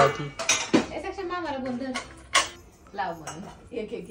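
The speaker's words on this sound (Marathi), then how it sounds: "भांडी लावतोय ह्याच्यात मांडीमध्ये." A child arranges dishes and bowls, setting down clinking steel plates and bowls in a quick series of close, light knocks and chinks, while voices talk over the clatter.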